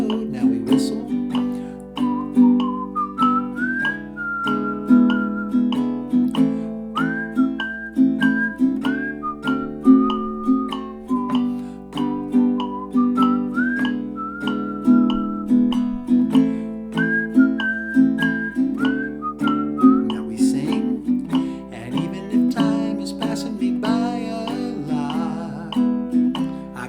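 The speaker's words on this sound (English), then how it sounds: "Now we whistle." A group whistles a bright, lilting melody in clear phrases that rise and fall, carried over a steady instrumental backing for nearly half a minute at even, moderate loudness.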